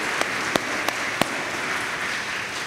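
Church congregation applauding at a parish gathering, a steady rush of clapping from a crowd with a few sharp, louder individual claps standing out near the start.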